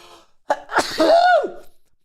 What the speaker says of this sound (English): Sorry, I don't know if you guys heard that, but I just sneezed.